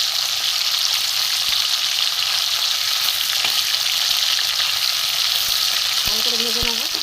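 Small hilsa fish frying in hot oil for a brinjal and potato curry, a steady dense sizzle that holds throughout with a few faint utensil taps and a short tonal squeak near the end.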